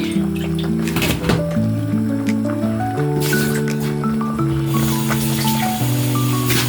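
Broth poured into a pot of pork and cabbage nilaga, wet squishing and dripping liquid sounds close up over a steady tonal hum, no talking.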